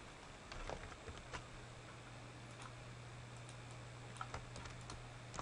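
Typing on a computer keyboard, quiet irregular key clicks in short bursts over a faint steady fan hum, with no voice.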